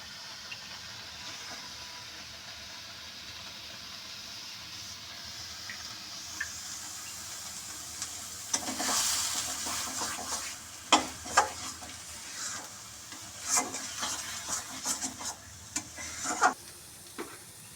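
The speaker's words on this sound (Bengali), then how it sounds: "রস শুকিয়ে যাওয়া পর্যন্ত ভেজে নিলাম।" Eggs with cham grass fry in a pan with a quiet, steady sizzle that turns into louder bursts of crackling and spatula scraping in the second half.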